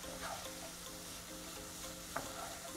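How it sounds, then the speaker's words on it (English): Oil frying with spices in a pan makes a soft, continuous sizzle with faint stirring scrapes and one small clatter, quiet and steady throughout. "I'll fry it for another like maybe 5 minutes so the spices can be absorbed"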